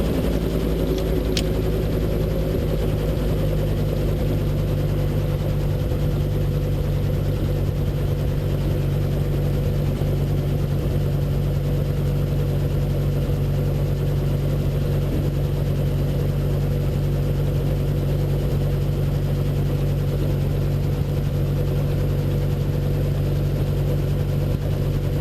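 R22 helicopter with the clutch just disengaged, its rotor and piston engine winding down: a steady, loud mechanical drone with strong low hum and whine that holds close and even throughout, with no voices.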